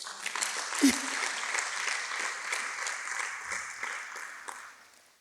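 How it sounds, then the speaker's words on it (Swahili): A church congregation claps together in a sustained ripple of applause, with a faint voice or cheer briefly rising near the start and the clapping tapering off toward the end. "mpigie Yesu makofi"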